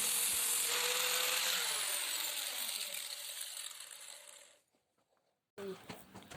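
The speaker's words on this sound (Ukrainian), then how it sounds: "зачищаємо ці края шпильок ліпістковим кругом" A flap disc on a grinder deburrs the cut ends of threaded steel rods for a staircase, giving a loud, steady high whine and rough grinding for about four seconds that fades to near silence, then a short burst returns.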